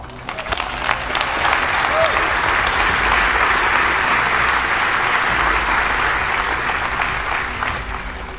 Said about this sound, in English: Let's give a round of applause to the engineers, scientists, and administrators that have kept that beacon of collaboration alive.